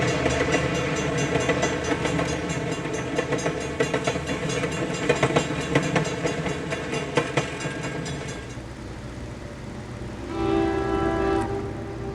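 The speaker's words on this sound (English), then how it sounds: "As the southbound train departs, another northbound empty hurries past." An empty northbound train rushes past on the line, wheels clattering loudly and steadily at close range for about eight seconds before the noise drops away, followed by a brief tonal horn-like sound near the end.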